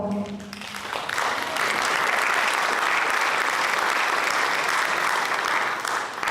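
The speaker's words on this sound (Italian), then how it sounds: "lo ringraziamo comunque con un grande applauso" An audience at a European Heritage Days event in Genoa breaks into a big round of applause: clapping swells in after about a second, then holds loud and dense to the end.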